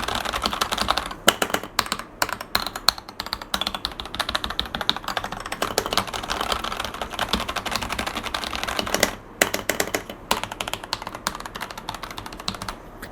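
A Kemove K98 retro mecha-style mechanical keyboard with hot-swappable red switches is typed on up close, giving a steady stream of fast clacking keystrokes with only brief pauses and no talking.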